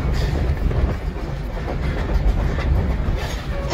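Steam locomotive train running steadily nearby, a continuous loud rumble with rhythmic wheel clatter throughout and no talking.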